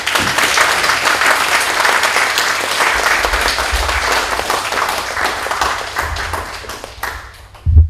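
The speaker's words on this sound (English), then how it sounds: "So can we applaud them first?" A room full of people at a conference plenary session claps loudly and steadily for several seconds, the applause thinning out toward the end.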